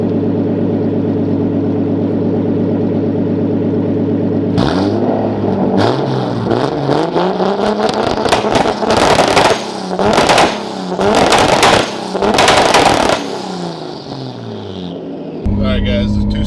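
Nissan 350Z with a 2JZ engine swap, previously misfiring on one cylinder, starts up and blips through a steady idle, then fires a string of loud, popping two-step launch-control rev bursts close up before settling back to idle.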